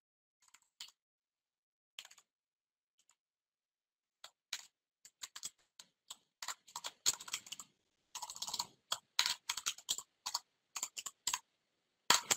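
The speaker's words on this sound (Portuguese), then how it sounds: "estou usando aqui só o teclado" Someone typing on a computer keyboard, irregular bursts of quiet close key clicks speeding into dense flurries, with no voices.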